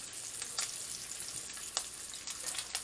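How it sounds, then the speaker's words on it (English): Bacon frying and crisping in a pan, a bright, continuous sizzle full of crackling pops, close and steady, with no talk over it. "I love it, bacon. So now it's starting to crisp up a little bit."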